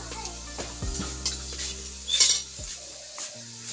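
Fried potatoes for a vegetarian potato and pointed gourd dish are scraped and spooned from a pan into a bowl, with a few close metallic clinks and scrapes over a faint background sizzle.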